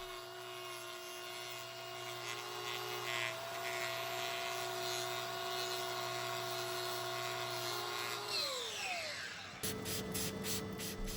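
Power tool trimming loose hoof horn from a cow's claw in a crush: continuous high whirring grind with a sustained tone that drops in pitch as the tool slows near the end, followed by brief rapid pulsing.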